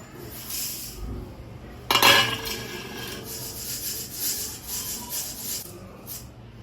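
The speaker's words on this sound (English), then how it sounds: "Takes a bowl of pohe. Sifts them." Dry poha, flattened rice, shaken and rubbed in a bowl, a continuous rustling scrape with one louder clattering burst near the start, then steady gritty swishing.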